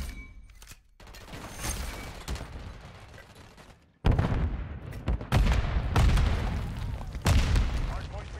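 Rapid SMG gunfire in the video game Modern Warfare 3 comes in loud bursts over heavy game noise, with booming impacts. Someone talks at times through the firing.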